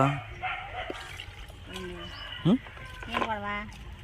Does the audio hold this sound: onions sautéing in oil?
no